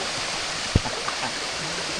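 Mountain stream and waterfall water rush steadily in the Smoky Mountains, a dense, constant close roar with one brief knock partway through.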